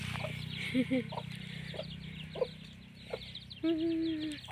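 A chicken gives a few soft clucks over a steady low hum, ending in a longer drawn-out call, outdoors in rural Nakhon Phanom, Thailand, on a cold winter day.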